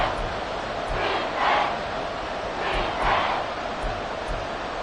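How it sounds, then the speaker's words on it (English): A football crowd at Arrowhead Stadium roars late in a tight fourth quarter, a broad, steady wash of distant cheering that swells twice, with no talk over it. "The Arrowhead crowd in full roar"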